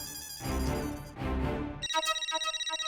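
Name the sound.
telephone ringing while calling Bhide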